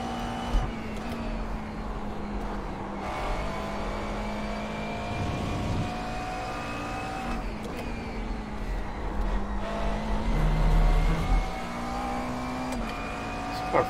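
A GT3 race car engine drones continuously at Brands Hatch in the iRacing sim, its pitch rising and falling through gear changes as it laps, loud and steady with no talk.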